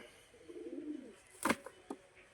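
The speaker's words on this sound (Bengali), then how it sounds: "এই হচ্ছে পায়রা।" A pet pigeon gives a brief, quiet coo, followed by a few sharp rustles and flutters close by.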